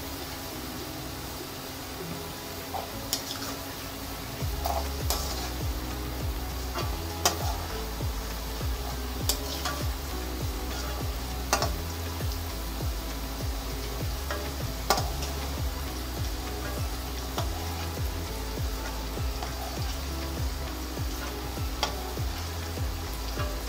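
Green peas frying and being stirred in a pan for a dhaba-style mutton qeema matar aloo, a steady close sizzle with repeated light scraping and clinking of the stirring utensil, no voices.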